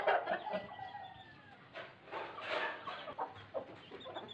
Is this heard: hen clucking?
yes